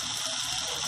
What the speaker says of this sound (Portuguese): Põe um pouquinho de água pra ir esquentando.